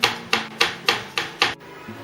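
Six evenly spaced soft pats, roughly one every quarter second, as chocolate shavings are pressed onto the sides of a cake, each a brief muffled thump, close and unaccompanied by speech.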